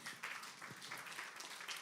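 An audience at an audit committees' conference applauds, producing a soft, continuous patter of many hands clapping, faint and steady throughout.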